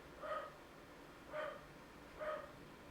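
A dog barks downstairs, three muffled, evenly spaced barks about a second apart, heard faintly through the house over a low background hum.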